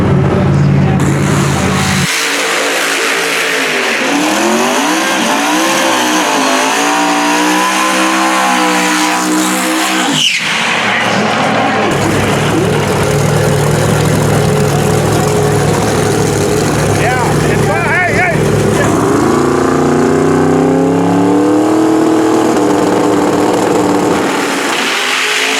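Boosted drag race car with a big supercharged engine revving hard in neutral, climbing and falling through high RPM in loud sustained sweeps, with voices talking over parts of it.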